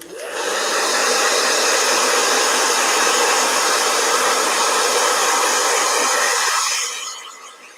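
A handheld blow dryer runs loud and steady for about six seconds at close range, a broad airy roar that then cuts off and winds down, with no talking.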